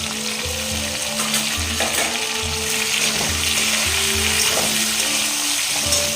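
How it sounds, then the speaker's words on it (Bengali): A spice masala of ginger, turmeric, cumin and coriander powder fries in oil with potato and tomato, producing a loud, constant close-up sizzle with a low rhythmic hum underneath and occasional stirring. "খুব ভালো করে এই মশলাটাকে কষাবো তেলের সাথে।"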